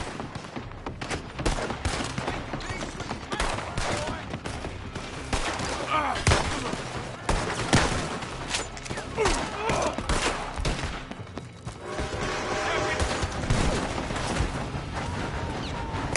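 Sustained gunfire raining down from a building in a Red Dead Redemption 2 shootout, continuous loud cracks and volleys throughout, mixed with clattering battle noise.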